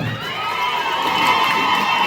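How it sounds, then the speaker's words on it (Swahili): A crowd at a graduation ceremony cheers and shouts in praise, a loud continuous roar of many voices with children's high shouts mixed in, steady throughout. "hebu tumpatie Mungu makofi mazuri ya sifa"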